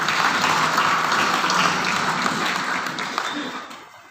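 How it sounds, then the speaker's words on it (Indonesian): Applause at a ceremony marking Nahdlatul Ulama's 96th anniversary, welcoming an honoured guest; a crowd claps in a dense, steady wash that tapers off near the end, with voices mixed in. "kita berikan tepuk tangan atas kehadiran beliau"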